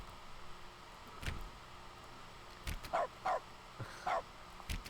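Dog barks from The Stanley Parable Ultra Deluxe video game: one sharp bark, then a cluster of four or five quick bow-wow yips close together, and a final bark, all fairly near over a steady low room hum.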